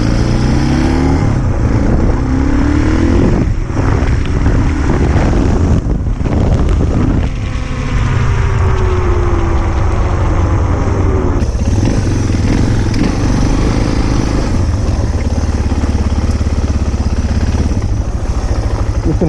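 A Suzuki DR650 geared with 14-44 sprockets pulls along in first gear, its engine droning loudly and changing pitch under heavy wind buffeting on the microphone throughout.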